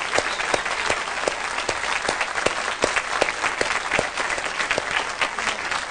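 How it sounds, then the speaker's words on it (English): An audience claps steadily, a bright, even patter of many hands kept up at a loud, consistent level from start to finish, with no voices over it. "I think Carolyn deserves a big round of applause"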